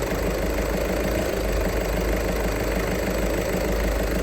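Used car engine idling at a car market, a steady, even, loud rumble with constant vibration and no other sounds.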